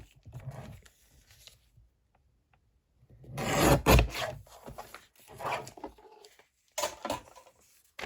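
Paper bag cover being trimmed for a junk journal, heard as a few short rasping cuts and rubs in bursts with quiet gaps between them, close by and without talk.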